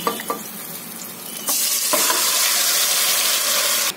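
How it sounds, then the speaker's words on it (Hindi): Mutton and masala fry in a pan for Mughlai mutton korma, with a few stirring knocks before the sizzle jumps to a loud, steady, close hiss that holds until the end. "गैस को करेंगे हम मीडियम टू हाई पर और इसे अच्छी तरह भून लेते हैं।"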